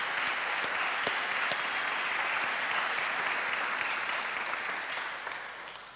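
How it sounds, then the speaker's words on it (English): Conference attendees at a diversity and inclusion event applaud warmly in a large room, the steady clapping holding for several seconds before fading toward the end. "I think they all deserve a round of applause."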